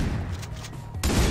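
Gunfire in the co-op shooter game Far Cry 3, a dense burst of rapid shots rolling together as a loud fusillade, with a sharper, heavier volley kicking in near the end.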